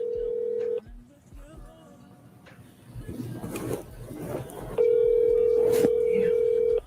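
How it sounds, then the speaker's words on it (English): A phone call being dialed: a short tone, a few faint key presses and clicks, some rustling, then a long steady ringback tone held for about two seconds, fairly loud and close, with no voices. "we're going to go ahead and give her a call"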